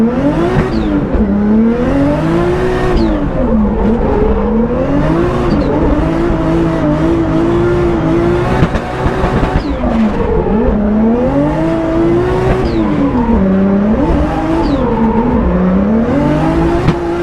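A BMW E36 running a 1.5JZ engine with a bigger turbo is driven hard, with a loud, close engine wailing up and down through repeated revs and gear changes in a continuous flowing pattern.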